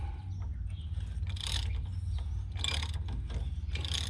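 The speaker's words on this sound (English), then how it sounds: "I'm going to use the ratchet to back it out." A hand ratchet backs a damaged threaded stud out through a two-piece die, giving repeated close clicking strokes over a steady low mechanical hum.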